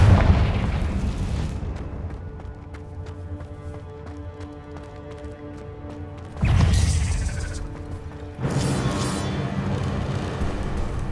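Confringo spell explosions in the video game Hogwarts Legacy: two loud booming blasts, each followed by a rumbling crackle, set over steady game ambience and music.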